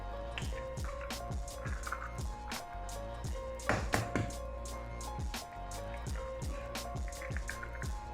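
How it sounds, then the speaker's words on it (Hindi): Two eggs beaten in a bowl while making semolina halwa, a steady run of quick wet clicks and taps from the whisk against the bowl, close and moderately loud, with no talking. "यहाँ पे एक बाउल में 2 अंडे मैं तोड़ लूँगी, इसको अच्छी तरह फेंट लेना है।"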